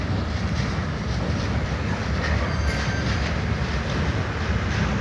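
A VL8 electric locomotive hauls a freight train through a station in Kryvyi Rih, giving a loud, continuous rolling rumble with faint clacking and a thin wheel squeal, close by and steady throughout, with no voices.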